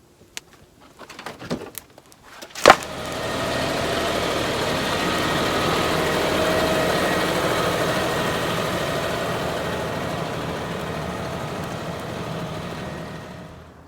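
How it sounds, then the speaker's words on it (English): Tractor engine catches after a few sharp clicks and clanks, then settles into a steady, close, even idle that runs unbroken to the end. "I'm gonna go get the tractor"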